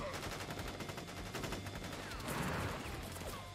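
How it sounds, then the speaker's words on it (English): Soldiers open fire in the video game Crisis Core Reunion, a dense rattling burst of rapid gunfire that runs continuously and swells toward the end, heard at moderate level with some voice mixed in. "Ready, aim, fire!"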